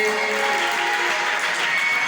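Steady applause from an audience at a spiritual camp, a dense wash of clapping with no breaks, moderately loud throughout.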